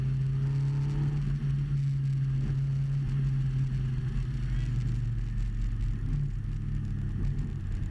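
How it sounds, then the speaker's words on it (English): A GBS Zero British sports car driven around a wet race track, its engine a steady low drone with a constant tonal hum and rumble throughout, fairly close and without any talk. "Get on the gas, Gio."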